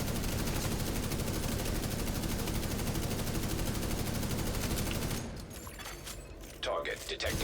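Sustained machine-gun fire from a support gunner in a video game, a dense rapid burst that runs loud and unbroken for about five seconds before cutting off into quieter scattered shots and mechanical noise.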